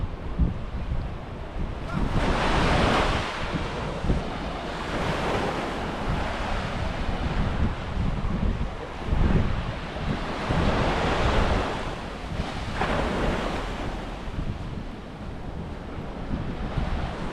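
Ocean surf rolls in steadily at a Los Angeles beach beside a pier, with repeated wave washes and constant wind buffeting the microphone, loud and close, with no voices.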